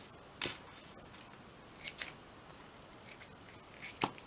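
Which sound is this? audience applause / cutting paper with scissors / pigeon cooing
cutting paper with scissors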